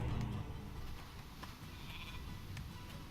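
A sheep in the Northgard strategy game bleats once near the start, a short nasal cry followed by quiet ambient game sounds and faint clicks.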